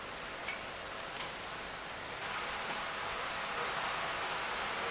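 Puff-puff dough frying in hot oil, a constant bubbling hiss with fine crackles and pops, fairly quiet and close, no talking.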